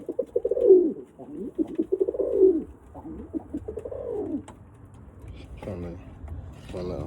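Birmingham roller pigeons cooing close by in repeated soft rising-falling phrases, with a person speaking quietly in between.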